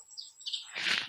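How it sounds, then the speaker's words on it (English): Small birds chirp and flutter near a nest under roof tiles, with a few high, thin chirps followed by a burst of wing flapping and a sharp final rustle, fairly close. "I don't know if these birds are trying to make a nest up here"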